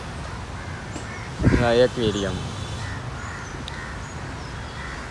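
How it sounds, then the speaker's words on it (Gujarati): Crows caw outdoors near an aquarium, a short loud burst of harsh calls in quick succession followed by a second brief round, set against faint background noise; a voice speaks a word nearby. "નકર કાગડા બોલે છે."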